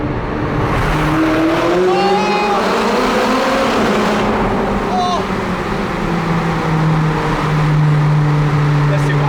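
A McLaren 570S sports car accelerates hard through a tunnel. The loud engine howls and climbs in pitch through repeated gear pulls, and the roar stays constant and close for the whole stretch.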